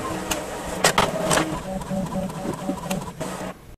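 A printer feeds and prints on A6 binder refill paper, giving a close series of clicking, whirring mechanical pulses with short bursts of rollers, then a sudden stop.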